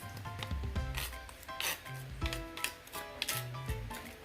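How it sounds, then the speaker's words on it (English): A utensil scrapes excess ingredient off into a bowl of pasta salad, giving several short rasping strokes with light knocks, close and fairly quiet. "so you're just going to scrape it off"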